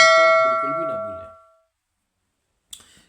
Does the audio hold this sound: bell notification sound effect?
yes